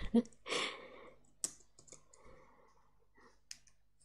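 A few quick keystrokes on a computer keyboard entering a shortcut in Vim on Linux, close and crisp clicks spread over a few seconds, with quiet speech between.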